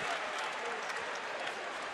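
A basketball arena crowd roars and applauds after a step-back three-pointer in an MTSU at Western Kentucky game. The cheering is steady and distant-sounding and fills the whole moment.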